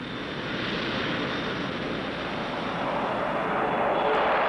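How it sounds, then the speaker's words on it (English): Boeing YB-52 jet bomber in flight, a steady, loud broadband engine roar holding constant throughout without pause or voices. "On April 15, 1952, the YB-52, Boeing's new big jet bomber, flew for the first time."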